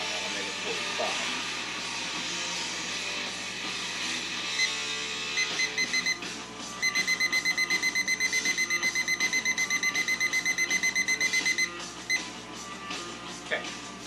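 Workout interval timer sounding a rapid, regular series of electronic beeps for several seconds over a hissy background, with quieter beeps before and after.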